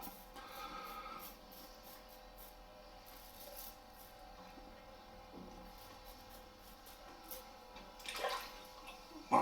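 Water splashes and runs as soap is rinsed off a shaving brush at a sink, a soft, faint trickle with small swishes and a slightly louder splash near the end, close by and with no talking.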